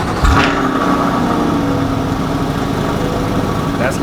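A 6.2-liter naturally aspirated V8 making 495 horsepower catches with a brief burst near the start, then settles into a loud, steady, rumbling idle close to the microphone.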